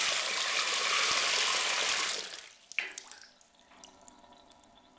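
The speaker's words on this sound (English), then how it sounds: "It's draining real slow" Water drains slowly down a drain, starting as a loud steady rushing flow that fades after two seconds into sparse gurgles and drips, close and without talk.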